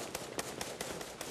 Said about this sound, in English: Explosions and heavy gunfire cracked through the streets of Tripoli tonight